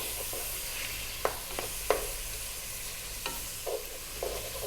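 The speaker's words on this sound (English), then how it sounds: "Let's just cook those tomatoes down slightly." Tomatoes cook down in a pot for a spicy vegan soup, giving a quiet, steady sizzle and simmer broken by a few sharp clacks of stirring against the pot.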